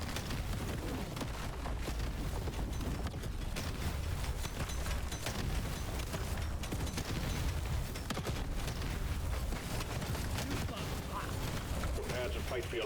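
Incendiary grenade fire in Deep Rock Galactic Survivor, heard as a dense, continuous crackling roar of bursts and blasts that stays loud and steady throughout, layered with busy game combat noise.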